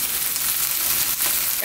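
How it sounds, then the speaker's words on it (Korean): Kelp (dasima) stir-frying in a hot pan makes a loud, dense, continuous sizzle close up, with no speech over it. "먼저 이걸 다시마를 먼저 볶을게요"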